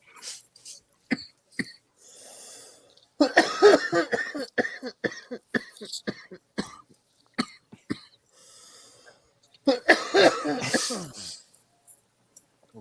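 Rough bursts of coughing after a puff of cannabis among friends, with raspy hacking in two clusters and several people talking and laughing in between.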